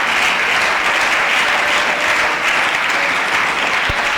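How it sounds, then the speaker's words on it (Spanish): A church congregation applauds in praise during a Spanish-language teaching service, a dense, continuous wash of many hands clapping at once, loud and full, sustained steadily throughout with no voices standing out. "Aplauda la gloria del Señor Jesús"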